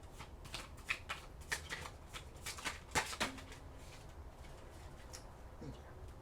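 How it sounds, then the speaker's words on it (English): Oracle cards are shuffled and drawn by hand, a string of soft, quick papery riffles and slaps close by, with a faint bird cooing in the background. "let's get your last oracle card"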